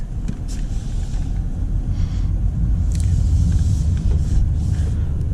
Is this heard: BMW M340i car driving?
yes